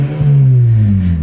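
A Honda Civic with an exhaust diffuser revs hard, a loud close engine note that dips briefly then drops steadily in pitch as the revs fall, with no talk.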